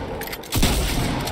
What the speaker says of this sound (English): Why are you shooting with your fucking shotgun?